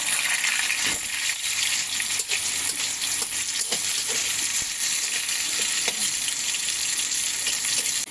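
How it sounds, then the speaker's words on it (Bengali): Potatoes fry in oil in a hot wok, a steady close sizzle with occasional clinks and stirring knocks, no talking. "তেল দিয়ে দেবো। দিয়ে এবার আলুগুলো ভেজে নেব।"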